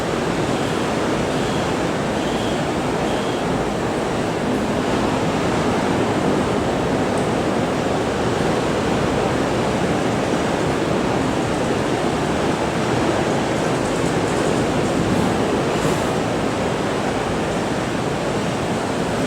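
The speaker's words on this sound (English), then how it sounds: "the sound of the ocean" Steady ocean surf rolls and washes continuously, a broad even roar of breaking waves with no clear gaps, heard alone with no voices, setting a calm backdrop for a yin yoga class.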